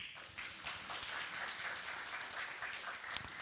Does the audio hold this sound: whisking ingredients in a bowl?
no